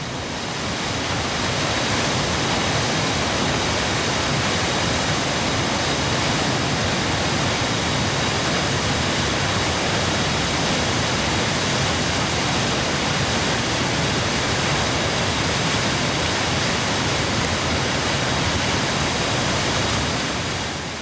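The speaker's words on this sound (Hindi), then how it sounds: "आगे चलकर दर्शन होते हैं धनछो झरने के" Dhancho waterfall on the Manimahesh yatra route in the Himalayas roars as a steady, dense, loud rush of falling water, unbroken and with no voices over it.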